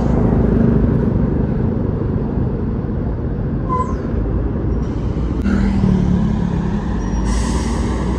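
A truck rumbles past at close range on a congested road outside a bus terminal, a steady heavy traffic roar with brief hissing air-brake bursts and squeals over it, and no talk.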